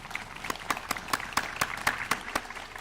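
A small outdoor crowd applauds at a National Indigenous Peoples Day event, the claps sparse and distinct at first and growing into a light, quiet patter.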